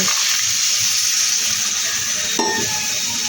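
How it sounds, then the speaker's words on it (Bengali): Water poured into egg curry in a hot pan, a loud continuous sizzle and bubbling with a brief splash of water hitting the pan, no talk. "এবার আমি একটুখানি জল দিয়ে দেবো"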